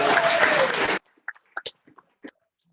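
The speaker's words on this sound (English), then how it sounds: "Let's give him a round of applause." Audience applause at a student senate meeting fills the first second loudly, then cuts off abruptly, leaving scattered faint clicks and small noises.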